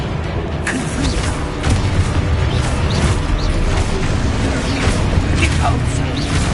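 Confringo fire spells from the video game Hogwarts Legacy burst in loud, repeated blasts with crackling impacts. Dense combat noise runs throughout, and a voice shouts spell names over it.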